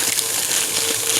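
Hot water poured for instant ramen noodles at home, a continuous bright splashing gush of liquid streaming steadily and fairly loudly up close, without talk.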